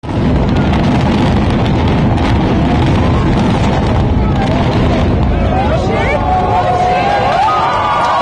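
Demolition of the Twin Tower buildings: a loud, continuous, broadband roar of collapse and rumbling debris fills the scene, with crowd voices and whistle-like cries rising near the end.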